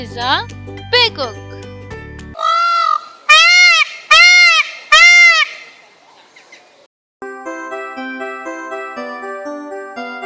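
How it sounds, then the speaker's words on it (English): A peacock calls four times in quick succession, loud wailing nasal cries that ring out clearly after a voice, then give way to a light tinkling jingle. "Peacock. This is a peacock."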